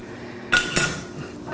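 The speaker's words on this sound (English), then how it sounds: "I'll have to put that dish back over here." Dishes and cutlery are moved and set down in a home kitchen while healthy brownies are prepared. Two sharp clattering knocks land close together, then fainter shuffling follows.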